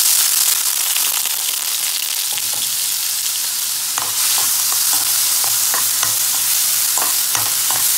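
Finely chopped onions sautéing in ghee in a pan for paneer ghee roast, a loud close hiss of frying broken by repeated scraping stirs that grow busier in the second half.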